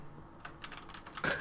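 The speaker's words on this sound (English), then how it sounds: "I just ignore the sound of me typing" Soft keystrokes tap on a computer keyboard in a quiet room, a few irregular clicks ending in a louder clustered press.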